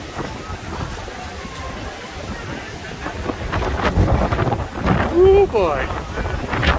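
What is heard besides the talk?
strong wind at Hermosa Beach pier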